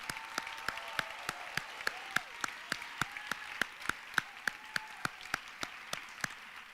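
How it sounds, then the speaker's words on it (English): Audience at an evening charity challenge finals applauds the event team, a soft room-filling patter with a steady, rhythmic run of distinct nearby claps standing out throughout. "Please give them all a round of applause."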